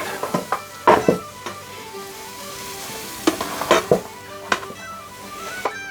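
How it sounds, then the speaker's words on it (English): Butter sizzles in a pan with browned lamb for Irish stew, a soft continuous frying hiss broken by sharp clinks and scrapes of a utensil stirring against the pan, close by. "Now we're going to throw in our butter."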